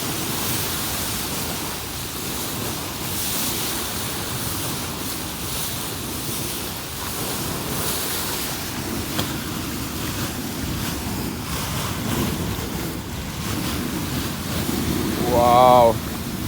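Water from the Mustoja river gushes out of the Vihula lake dam in a steady, loud broadband roar that never lets up, with wind buffeting the microphone.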